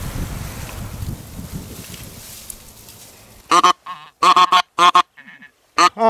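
Ducks calling loudly and close in several short bursts of quacks during a spring goose hunt near Velsk, following a stretch of windy, rustling background noise.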